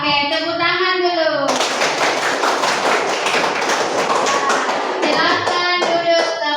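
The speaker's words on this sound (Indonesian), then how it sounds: "tepuk tangan dulu" Schoolchildren in a classroom break into a few seconds of lively, dense hand clapping, sandwiched between a teacher's spoken instructions before and after.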